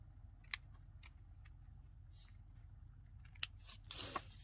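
Scissors cut paper to size for a playing-card winter booklet craft, heard as a few sparse, sharp snips spread over a quiet background, with a slightly longer crunchy cut near the end.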